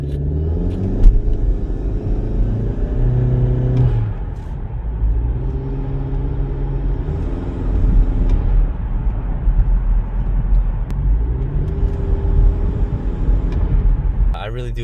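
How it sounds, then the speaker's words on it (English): Inside a 2021 Honda Civic Sport hatchback fitted with a PRL short ram intake, a steady engine rumble and drone sound as the car coasts off throttle from above 2000 RPM with the windows closed. Voices seem to sit faintly under the engine noise. "you'd have to drive above 2000 RPM and then let go of the throttle so you can hear that sound"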